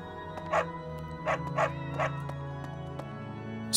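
A dog barks in the video game Fire Emblem: Three Houses, four or five short separate woofs spaced across a steady background music bed, no talk.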